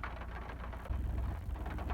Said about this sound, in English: Yeah, it's raining a little bit.